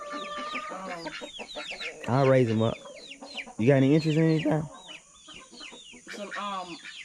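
Roosters and hens on a farm cluck and call loudly, with a couple of long harmonic crows, while someone talks over them at close range.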